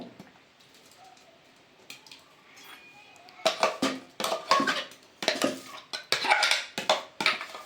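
A spoon scraping and clanking against a metal pot while spice paste is stirred into cooked field beans and vegetables for sambar, the strokes coming in irregular close bursts after a quieter start.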